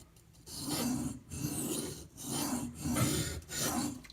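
Knife held in a sharpening clamp and drawn across a stone, five rhythmic rasping strokes with short pauses between them, close and fairly quiet, with no talking.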